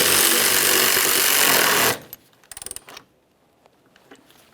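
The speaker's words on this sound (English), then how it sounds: "Start on the mounting bolt and snug it up." Loud steady rush gives way to a short burst of rapid ratchet clicks as a mounting bolt on a 2007-2017 Jeep Patriot power steering reservoir is snugged up, followed by faint scattered taps near the end.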